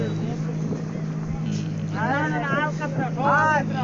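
A motor trawler boat engine drones steadily with a low, constant hum while people talk over it nearby.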